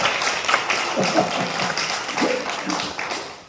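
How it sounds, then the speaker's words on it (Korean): A church congregation at a joint district worship service at Seogwipo Myungsung Church gives a deaconess a round of applause, a steady patter of claps from a modest group, close and continuous. "우리 이현주 권사님한테 박수"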